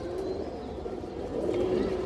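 An old-breed, brown-throated female pigeon gives soft, low, repeated coos close by, with a steady murmur of background noise behind.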